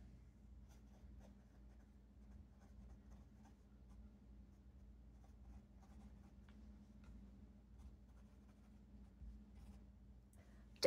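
A fountain pen scratches across paper in quick, faint strokes close up, with soft rhythmic scribbling over a quiet low hum.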